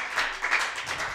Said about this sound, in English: Give a round of applause for my co-producer.